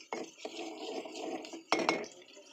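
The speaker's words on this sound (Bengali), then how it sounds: "পেঁয়াজগুলো নেড়ে ছেড়ে বাদামি রঙের করে ফেলবো।" A utensil stirs onions in a pan, giving a few quiet scraping strokes with soft sizzling, ending in a louder double scrape near the end, close by with no talk.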